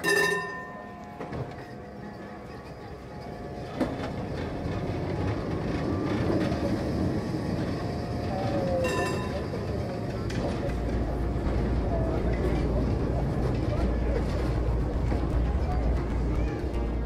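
A Potsdam tram, car number 177, runs on its rails with a steady rolling rumble and clatter, loud and close, carrying on continuously throughout with a deeper low drone building in the second half.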